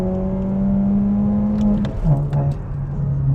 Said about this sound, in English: The pops, man. God, this car sounds absolutely beautiful.